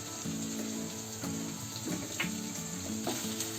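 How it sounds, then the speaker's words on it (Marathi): Ginger garlic paste sizzles in hot oil with onion and curry leaves, a steady close frying hiss broken by a few stirring scrapes, with low musical tones running underneath and no one speaking. "आता इथे आलं लसूणची पेस्ट टाकली ना, अर्धा मिनिट ढवळला"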